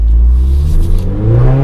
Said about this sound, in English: Loads better. You can hear the intake, can't you?